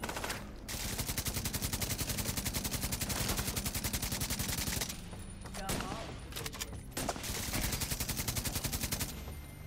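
Sustained automatic gunfire from enemies in The Division 2, a dense rapid rattle of shots that runs almost nonstop, briefly pauses mid-clip, then resumes with scattered impacts, loud and close.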